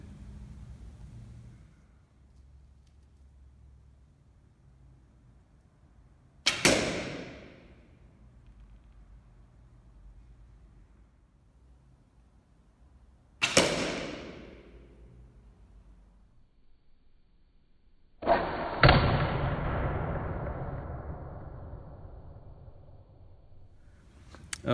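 Arrows striking a Chinese lamellar armor plate, three separate sharp impacts several seconds apart, each with a ringing decay, the last longer and brighter, in an otherwise quiet setting.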